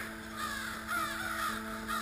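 Crows caw repeatedly while chasing an owl, several harsh calls in an uneven series, moderately near over a steady faint background tone.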